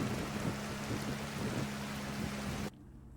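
Steady rain hisses in the video game Scrap Mechanic, a dense even wash with a low hum beneath it that cuts off abruptly near the end.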